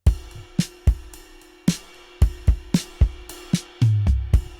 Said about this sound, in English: It's pretty much the default for EZdrummer 3's Tight Room kit with just a lot of compression